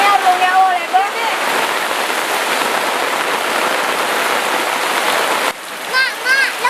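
Rain falling, heard as a dense, steady hiss that fills most of the stretch, with voices speaking over it at the start and the end.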